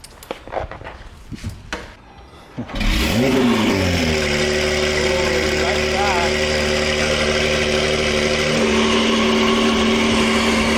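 A car engine roars to life after some light handling noises, then revs loudly and settles into a steady, powerful idle close by.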